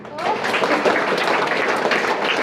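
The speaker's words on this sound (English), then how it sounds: "You're not clapping." School audience at Trinity Global School in Patna claps in a dense, steady patter, fairly close and loud, with voices mixed in.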